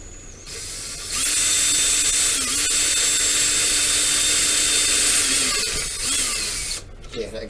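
A drill bores a 5mm hole in a plastic model kit part, a sustained high whine that starts abruptly, holds steady for several seconds with slight pitch dips, then stops, with faint handling noise around it.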